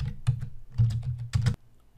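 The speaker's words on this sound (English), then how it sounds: "I'm just going to type this in to confirm that it does what I claim." Close, clear computer keyboard typing while entering Python code, with irregular bursts of keystrokes that stop abruptly near the end and no talking.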